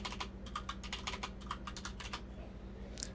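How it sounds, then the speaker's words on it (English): Fast typing on a computer keyboard, a close, quiet run of crisp key clicks in quick uneven succession that tapers off near the end. "We're going to go back to Google and type in YAMB."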